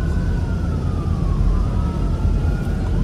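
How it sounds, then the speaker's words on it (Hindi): Police and ambulance sirens pass along a busy street, a loud wailing tone sweeping over heavy traffic rumble, continuous and close. "सामने से पुलिस एम्बुलेंस सब चलता रहता है यहाँ पे"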